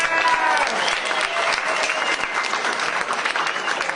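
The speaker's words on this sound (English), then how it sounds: "So if you could just give her a round of applause, please." A round of applause from an audience for an exhibition curator, dense and continuous clapping close by, loud and sustained with some crowd voices mixed in.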